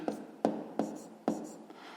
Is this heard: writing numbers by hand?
yes